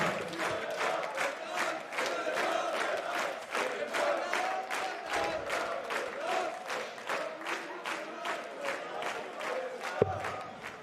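A socially distanced darts crowd at the 2021 European Darts Championship cheers and applauds, with steady rhythmic clapping and chanting sustained for about ten seconds, moderately loud and echoing through the arena.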